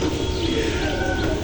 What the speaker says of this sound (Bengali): সকালে উঠেই পাখি কিচিরমিচির শুনতেছি